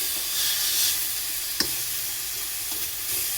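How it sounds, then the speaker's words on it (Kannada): Dill leaves fry in a hot pan under a constant, close sizzling hiss, with a spoon scraping and stirring through them and one sharp knock of the utensil midway, no voices. "ಚೆನ್ನಾಗಿ ಫ್ರೈ ಆಗೋವರೆಗೂ ಇದನ್ನು ಮಿಕ್ಸ್ ಮಾಡ್ಕೊಳ್ಬೇಕು"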